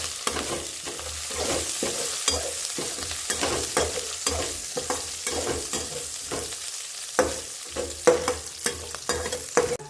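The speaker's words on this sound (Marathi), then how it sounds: "कढीपत्ता टाकूया मिरच्या टाकूया ते चांगलं हलवून घेऊ" Curry leaves and green chillies are stirred in hot oil for a gram-flour drumstick dish, giving a steady close sizzle broken by repeated scraping strokes of a spoon across the pan, with no talking.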